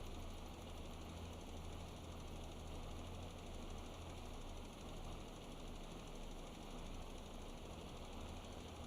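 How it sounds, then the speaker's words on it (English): A tractor engine in the Farming Simulator 22 video game runs steadily, a continuous low rumbling drone with a faint mechanical whine above it, even in level throughout, with no talking. "we're just getting paid to drive the tractor around"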